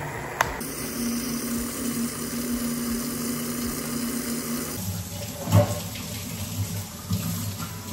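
Kitchen tap water runs steadily over a shaker bottle being washed, a continuous hiss and splash that shifts in tone midway as the flow hits the shaker differently, with a brief louder knock near the end.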